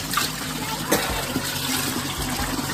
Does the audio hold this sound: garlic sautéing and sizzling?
no